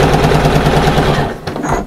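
A sewing machine stitching a bag runs in a fast, even mechanical rattle for just over a second, loud and close, then stops with a few faint clicks.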